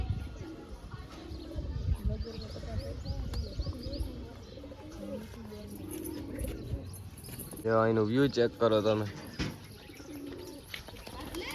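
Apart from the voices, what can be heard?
pigeon cooing on rooftop terrace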